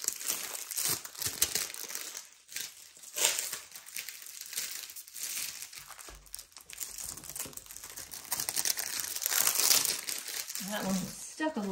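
Plastic packaging around diamond painting canvases crinkles and crunches steadily for several seconds, close and fairly loud, with bursts of rustling and a brief voice partway through.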